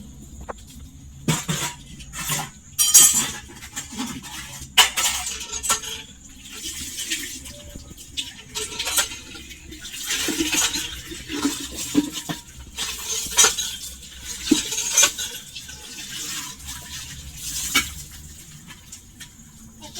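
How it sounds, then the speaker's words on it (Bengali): Scrubbed dishes and utensils being rinsed in a home kitchen, with irregular splashes of water and light clinks of metal and crockery close by, without talking. "তো হয়ে গেছে আমার বাসন মাজানো, এখন আমি ধুয়ে নিই।"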